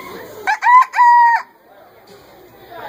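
A man imitating a rooster's crow, a loud, close, stretched cock-a-doodle-doo in two rising and held parts, followed by quiet background with faint talk.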